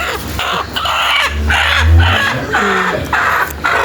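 A hen clucks close by in a rhythmic series of short, throaty calls while she is being set on eggs to brood.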